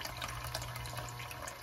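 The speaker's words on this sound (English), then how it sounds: "The manual recommends that we flush for 1 minute, but I will just stop when I see that the water is clear." Water runs steadily from a newly installed Kohler Kaori kitchen faucet as the lines are flushed, a constant even hiss and splash into the sink with no voices.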